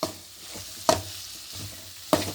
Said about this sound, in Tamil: இப்போ அதை நல்லா கலக்கி விட்டுட்டு நாம் ஸ்டவ்வில் நிறுத்திடலாம்.